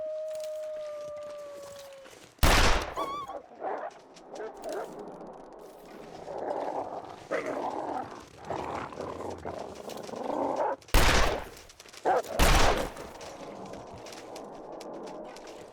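Sharp gunshots from a rifle in The Long Dark, two separate loud bursts a few seconds apart against a quiet wilderness backdrop with faint rustling and footsteps between them.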